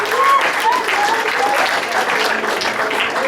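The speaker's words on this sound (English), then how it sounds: "Give them a big round of applause, everybody." Loud, dense audience applause at a comedy hypnosis show for a high school post-prom, sustained clapping close by with scattered cheers and voices mixed in.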